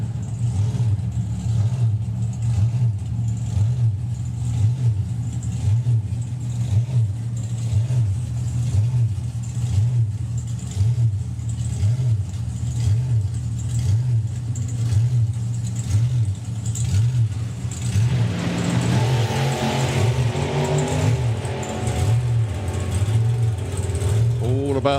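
A drag racing car at the Summer Nationals sits running with a steady, throbbing mid-pitched engine drone that pulses rhythmically, while a commentator talks over it and a louder burst of noise builds near the end.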